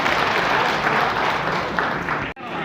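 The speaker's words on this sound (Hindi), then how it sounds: "जोरदार तालियां जरूर।" Audience applause at a film celebration marking a hundredth day of screenings in Korba, a dense, steady burst of clapping that fills the room and stops abruptly near the end.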